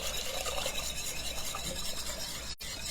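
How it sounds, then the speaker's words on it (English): A whisk scraping and swishing through pudding mixture in a cooking pot, a continuous close rasping stir with a momentary gap near the end, no voices. "And then whisking, we are adding this straight in."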